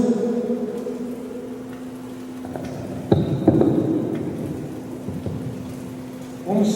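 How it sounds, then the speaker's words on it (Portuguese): Heavy rain pours steadily with a low rumble of thunder and a sharper crack partway through, heard alone and fairly close. "por que tanta chuva?"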